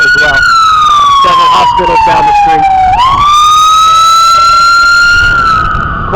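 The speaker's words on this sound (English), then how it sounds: "you get a lot of the siren stuff here as well" A loud emergency vehicle siren wails close by on a street lined with several hospitals, its pitch sweeping down, then up and holding high, filling the whole stretch with no talk.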